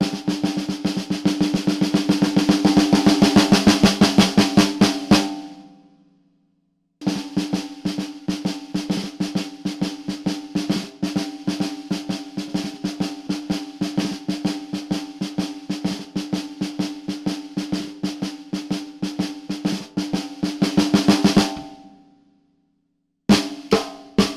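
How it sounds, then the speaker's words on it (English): A Pearl Sensitone Classic brass snare drum is played alone in rapid, crisp rolls and rhythmic strokes, with two short pauses where the ringing dies away. "So we do have just this microphone capturing the snare,"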